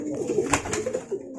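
A pigeon courting gives a short, close series of soft, throaty coos with a quick, rolling rhythm.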